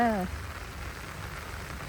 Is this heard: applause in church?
no